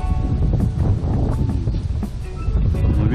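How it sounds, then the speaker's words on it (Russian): Wind blowing steadily over an open lake on an overcast June day, a constant low roaring rush close to the microphone with faint rustling, no voices. "Какая-то хмурь, ветер поднялся"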